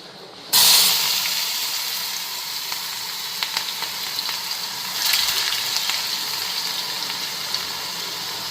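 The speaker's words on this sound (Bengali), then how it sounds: "আগে আলুটা ভাজুম, পরে মিষ্টি কুমড়োটা ভাজুম, আর সবার লাস্টে পাঁপড়।" Potatoes fry in a small wok with a loud, steady sizzle that bursts in suddenly as they hit the hot oil, then swells briefly midway and keeps hissing on its own with faint stirring clicks.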